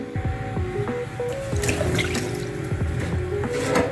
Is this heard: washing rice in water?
yes